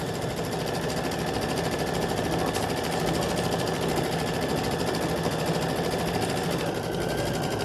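A sewing machine quilting in the hoop runs with a steady, dense mechanical whir and rapid stitching rattle, loud and unbroken throughout.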